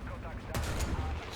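A single heavy tank cannon blast in War Thunder booms out over low background rumble, followed by a softer second crack moments later.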